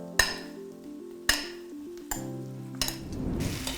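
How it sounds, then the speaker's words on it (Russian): Chicken pieces dropped into a frying pan with softened onion for curry, landing with several sharp clatters and knocks of utensil against pan, followed by a rising broad sizzle as the meat starts browning. "Подрумянивать курицу буду несколько минут."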